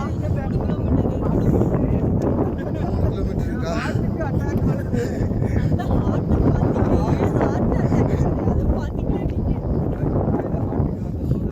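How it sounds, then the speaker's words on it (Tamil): Strong wind buffets the microphone on a mountain trek at Meesapulimala, a loud, steady roar under people talking throughout. "காற்று வந்து ரொம்ப ஹெவியாக அடிக்குது"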